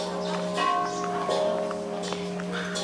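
Buddhist temple bells in Chiang Mai ring out with clear metallic strikes and lingering tones, several hits spaced irregularly, moderately close, with faint background murmur.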